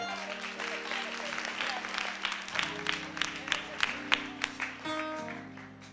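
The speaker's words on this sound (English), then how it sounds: "Give the Lord a hand clap." A church congregation claps in a rhythmic run of sharp hand claps over sustained organ chords and singing voices.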